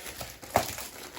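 A Jeffree Star winter mystery box package is being opened: brief crinkling of paper and plastic at close range, with one sharper crackle midway, no speech.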